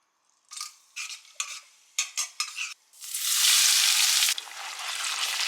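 Onions frying in hot oil in a pan for Kolkata-style biryani, with several short bursts of stirring and scraping followed by a loud, steady sizzle that drops a little but keeps going.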